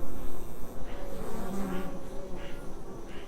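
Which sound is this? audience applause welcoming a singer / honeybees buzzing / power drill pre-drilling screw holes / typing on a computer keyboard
honeybees buzzing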